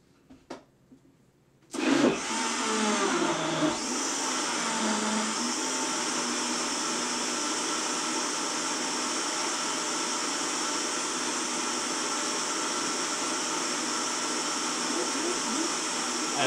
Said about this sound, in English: Blend it up.